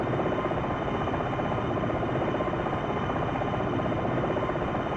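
Simulated helicopter climbing in the Jane's Longbow Gold flight game, a constant loud rotor-and-engine drone with a fine buzzing texture and no change in level.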